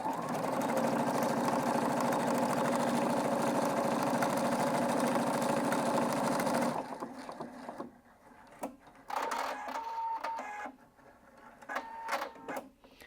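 A Husqvarna Viking Brilliance 75Q sewing machine stitching out an embroidery design, a loud steady whirring drone that stops abruptly partway, leaving faint clicks and handling sounds.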